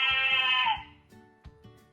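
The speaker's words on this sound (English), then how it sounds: "This is a goat." A goat bleats once, loud and wavering, followed by a couple of soft thumps and faint rustles in an otherwise quiet space.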